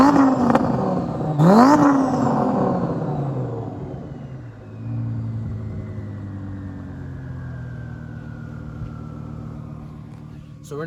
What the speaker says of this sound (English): So we're now driving Zach's BMW